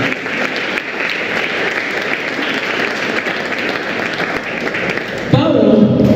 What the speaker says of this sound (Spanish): ¿Tenemos un aplauso aquí?